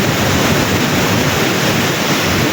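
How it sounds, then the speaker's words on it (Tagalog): Strong sea waves crash and roar in continuous broadband surf at a rough shoreline fishing spot in bad weather, loud and steady throughout with wind buffeting the microphone. "Grabe kalalakas ng alon."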